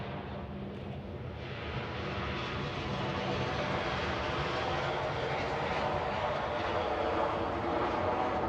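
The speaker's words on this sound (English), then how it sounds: "That was a 16-year-old Airbus" A 16-year-old Airbus airliner landing at Manchester Airport, with a loud, steady jet roar that holds unbroken across the whole stretch and no voices.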